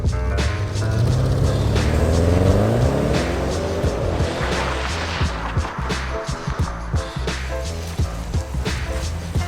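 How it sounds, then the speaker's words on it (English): A car idles, then revs up through launch control with a quiet exhaust, a rising engine note climbing in pitch before settling into a steady run with sharp clicks and pops, close and fairly loud throughout. "so you guys can see launch control with this quiet ass exhaust"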